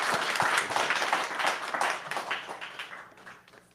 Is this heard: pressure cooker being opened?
no